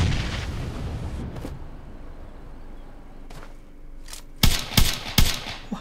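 Grenade explosions in PUBG Mobile: after a quieter stretch of muffled game noise, three or four sharp, loud blasts burst in quick succession near the end.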